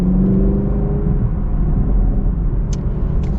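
A naturally aspirated V8 in a 2022 Chevy Camaro 2SS drones and pulls steadily under partial acceleration, with a couple of sharp exhaust pops crackling near the end.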